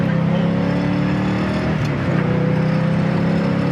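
A 1970 Ford Mustang Mach 1 pulling away in first gear, its engine a steady, rising drone heard from inside the car, with a faint break midway.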